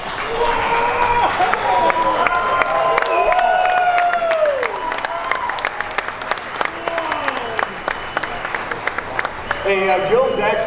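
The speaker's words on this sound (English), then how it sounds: "Let's give a round of applause to Joe and his team." Sustained applause from a large crowd at the SEMA show, steady and fairly loud, with scattered cheers and whoops rising over the clapping throughout.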